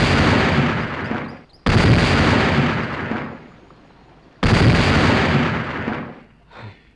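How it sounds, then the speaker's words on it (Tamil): Two loud, close explosions from a remote-triggered landmine in a movie action scene, each a sharp blast followed by a long rumbling decay, with a brief faint pop near the end. "இது அழுத்தினாலும் வெடிக்கும், சாம்பிள் பாக்குறீங்களா?"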